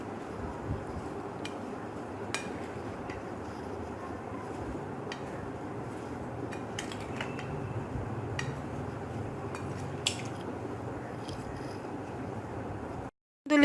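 A spoon stirs guava chaat with lemon juice in a bowl, giving soft scraping and occasional sharp clinks against the dish, fairly quiet and close, with no talking.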